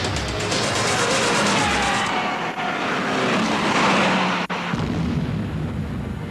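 A Tesla Roadster electric sports car accelerating hard at 12,500 RPM, a loud, continuous high-speed rush of motor whine and wind noise that holds steady for several seconds with a brief dip near the end.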